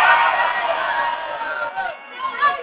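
Studio audience on a Brazilian talk show cheering and chanting as Barueri football fans, a muffled crowd roar of many voices, steady and fairly loud, fading slightly then swelling again near the end.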